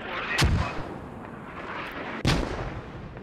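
Mortar rounds explode in the video game Squad, with two sharp, heavy booms about two seconds apart, each followed by a rumbling decay over a low background noise.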